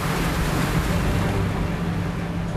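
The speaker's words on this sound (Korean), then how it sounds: "그런데 파도의 움직임이 예사롭지 않습니다." Rough sea waves surge around a yellow croaker fishing boat, a loud continuous rush of water and wind noise close to the microphone.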